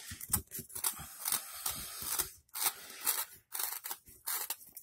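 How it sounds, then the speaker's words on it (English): A SVORD Drop Point knife carving into soft pine wood, giving short scraping and snicking cuts in quick irregular bursts with brief pauses, close and fairly quiet. "I've got some pine here, and this pine is just super easy to cut."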